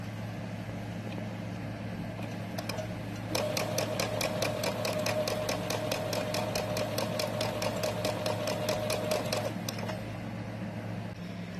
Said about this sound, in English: You push on the foot pedal and it's going to make the sewing machine run and the needle go up and down